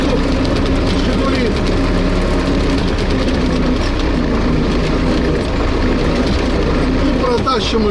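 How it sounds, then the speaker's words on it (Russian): A tractor engine running steadily on a muddy village road during the spring thaw, a loud continuous low rumble mixed with voices talking nearby. "Так что завел трактор."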